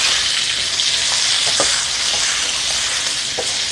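Garlic stir-fried in hot oil while preparing mixed vegetables with straw mushrooms in oyster sauce, a steady close sizzle with a few soft spatula scrapes and taps.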